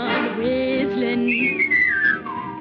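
Melodic whistling in a cheerful vintage popular song, a clear close tune with sustained pitches and a gliding rise and fall, with no voices.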